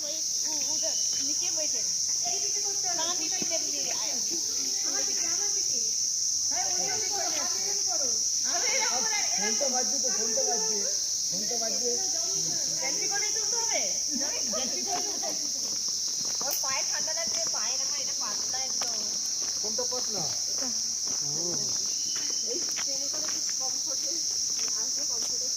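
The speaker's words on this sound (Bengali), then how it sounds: "ঝিঝি পোকা একদম ডাকছে।" Crickets shrill in a continuous high buzz in dense, dim forest near Darjeeling, steady and loud throughout while people talk nearby and footsteps pass underneath.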